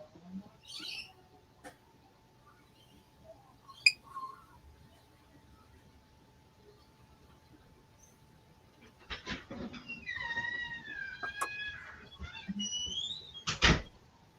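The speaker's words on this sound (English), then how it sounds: "Well, that's a squeaky door." A squeaky door creaking open, a wavering, high, drawn-out squeal with a few sharp knocks around it, fairly faint, following quiet outdoor sounds and scattered bird chirps, with no talk over it.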